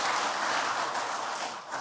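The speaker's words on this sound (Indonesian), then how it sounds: "Tepuk tangan untuk beliau." Applause from an audience at a national working meeting of Indonesia's family planning agency, a steady broad wash of clapping that runs the full length and eases slightly near the end.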